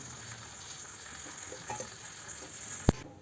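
A small test piece of salted dough fries in hot oil in a kadhai while dal bati is being made: a steady, soft sizzle runs throughout, with a brief sharp crackle near the end.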